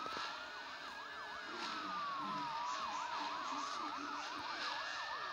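Police siren wailing in the Highway Drifter driving game, a steady rising-and-falling electronic wail that stays loud and close over engine rumble throughout, with no talking.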